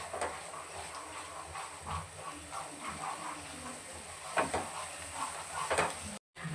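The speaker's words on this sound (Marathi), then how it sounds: "आता छान असं तेल सुटेपर्यंत 1-2 मिनिट भर आहे ना, मंद आचेवर आपल्याला हा मसाला परतून घेणार आहोत आपण" Masala paste for Kolhapuri misal frying in oil over low heat, with a steady soft sizzle and intermittent scraping stirs from a spoon in the pan, close and moderately quiet, with a brief dropout near the end.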